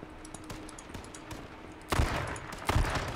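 Gunfire in the video game H1Z1 Battle Royale, a steady patter of quieter shots followed by two louder, closer bursts, with no talking.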